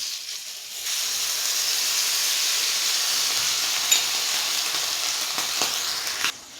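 Water poured into a hot pan while making stuffed green chillies gives a steady, loud steaming hiss that runs through the whole moment, with a few small clicks near the end.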